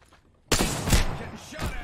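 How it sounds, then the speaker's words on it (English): Gunfire in Apex Legends, a sudden loud burst of shots erupting after a brief quiet, followed by another sharp report, with a voice speaking over it. "I'm being shot at"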